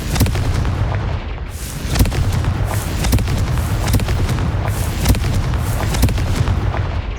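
Loud blasting explosions from the Confringo spell in Hogwarts Legacy go off in quick succession. Each crack and boom rides on a heavy, unbroken roar, and no voices are heard.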